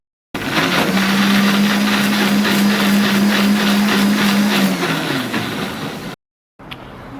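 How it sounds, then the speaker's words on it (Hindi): A blender whirs loudly and steadily for several seconds blending green and red chilies, its motor pitch dropping slightly before it cuts off abruptly, followed by a short quiet pause. "ये मैंने हरी मिर्च और लाल मिर्च मिलाकर इसे ब्लेंडर कर लिया है"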